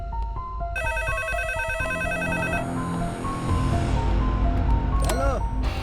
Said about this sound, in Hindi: अरे कौन है जो बार-बार फोन कर रहा है और बोल भी नहीं रहा है?